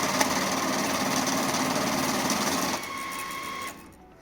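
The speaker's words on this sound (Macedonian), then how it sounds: "ставаме во микс, сейф и машината ќе брои сите истовремено" A LIDIX ML-2VS banknote counter whirs loudly and steadily as notes riffle through, then the motor drops to a lighter hum and spins down to quiet.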